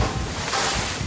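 Wind blowing outdoors at a rubbish dump, a steady, loud, broadband rush with low rumbling buffeting of the microphone, continuous throughout and without talk.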